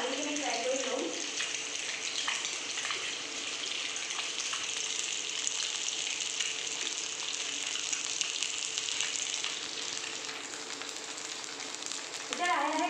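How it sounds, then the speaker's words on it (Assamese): Eggs frying in a pan for an egg and potato dish, a continuous close sizzle with steady crackling hiss that runs throughout, a brief clatter at the start and end. "এয়া কণী ভাজি আছোঁ মই"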